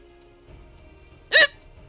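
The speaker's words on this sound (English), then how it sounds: "Apparently I have the hiccups." A single sharp hiccup, loud and close, from a person playing Final Fantasy XIV: A Realm Reborn, bursting briefly out of a quiet background hum with no talk around it.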